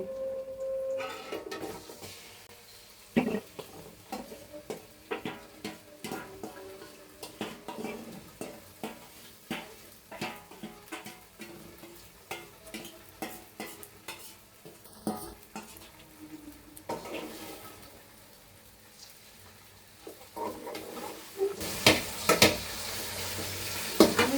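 Chicken roast sizzles with onion in hot oil while a spoon stirs it in the pan, giving continuous frying hiss broken by repeated close scraping and clattering strokes.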